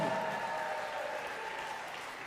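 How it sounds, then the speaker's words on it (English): Audience applause fills a gala hall, dense and steady clapping from a sizeable crowd that fades only slightly over its short span. "Let's give them a big round of applause."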